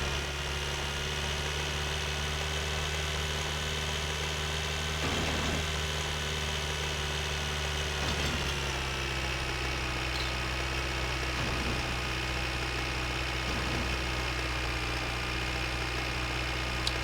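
A tractor engine idles steadily in a driving video game, a continuous low mechanical drone with a constant hum and occasional small shifts, loud and uninterrupted throughout.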